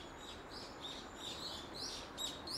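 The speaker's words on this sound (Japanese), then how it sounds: "鳥もさえずってます" Small birds chirping and tweeting in a series of quick, high calls spread across the stretch, moderately close over a steady background hiss.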